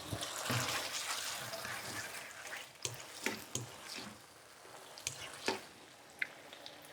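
Water splashes into a sizzling pan of spaghetti as its sauce cooks down, with loud hissing bursts and clicks of stirring over a steady frying crackle, close by.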